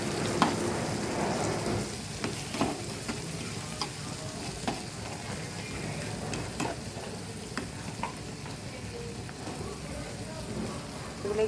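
Carrots and other vegetables stir-fried in a pan, with a continuous close sizzle and repeated light scrapes and taps of a spatula that run steadily throughout.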